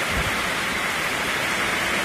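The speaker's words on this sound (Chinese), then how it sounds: "这一下雨下太大了。" Heavy rainstorm over flooded streets in Harbin, heard as a dense, steady roar of downpour and rushing water, loud and continuous throughout with no voices.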